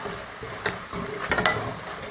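Minced mutton keema is stirred in a pan, with a soft, steady sizzle under a few scraping clicks of a spoon against the metal.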